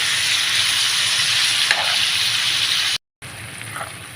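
Steady loud sizzle of bitter gourd pieces cooking in oil with salt and turmeric, a constant hiss with a faint stir near the middle and a brief dropout before the frying resumes.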